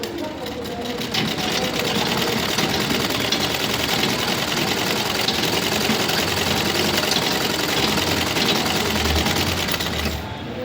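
A sewing machine stitches a blouse in one long, even run, its rapid mechanical clatter close and continuous for about ten seconds before easing off at the end.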